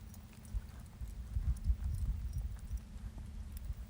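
A fresh horse's hooves clip-clop in an uneven walking rhythm during a warm-up before training, close and moderately loud over a low rumbling background, with no talk.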